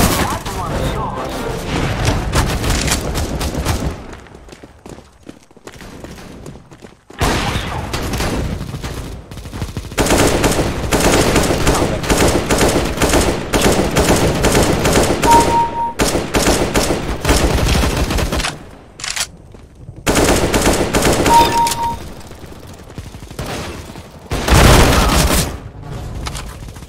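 Gunfire in Counter-Strike: Global Offensive, with repeated loud rifle and automatic bursts rattling on and off. Short quiet gaps break up the bursts across the stretch.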